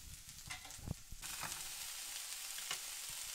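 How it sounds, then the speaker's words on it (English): Onions sautéing in a pan for low-carb bison chili, a quiet steady sizzle with a few light clicks of stirring, faint and close. "now I just need to saute the onions and brown them a little bit"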